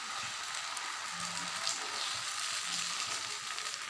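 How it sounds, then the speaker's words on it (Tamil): Dosa batter sizzles on a hot griddle stone in a continuous close crackling hiss that holds at an even level, with no talking. "இப்போ இதை நம்ம தோசை ஊற்றிடலாம் கல் வச்சு சூடாயிருச்சு"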